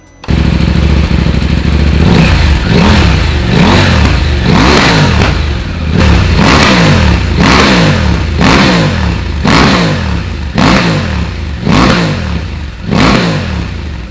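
A KTM 790/890 Adventure motorcycle fitted with a Twin Air filter revs repeatedly up and down, each loud, close throttle blip rising and falling in a regular rhythm with no pause between the revs.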